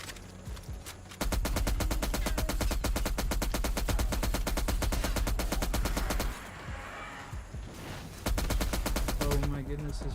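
Dense, rapid automatic gunfire in a World War II-style shooter battle with a Panzer tank nearby, loud and sustained with a brief lull before the shooting resumes, a voice faintly present underneath.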